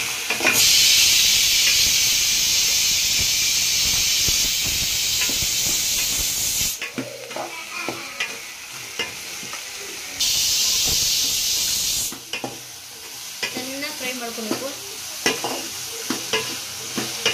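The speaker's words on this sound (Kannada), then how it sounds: "ಚೆನ್ನಾಗಿ ಫ್ರೈ ಮಾಡ್ಕೋಬೇಕು. ಎಣ್ಣೆಲ್ಲೇ ಫ್ರೈ ಮಾಡ್ಕೋಬೇಕು." Vegetables frying in oil for sambar, a loud steady hiss broken by quieter stretches of crackle and utensil scrapes, the sizzle swelling again twice over seventeen seconds.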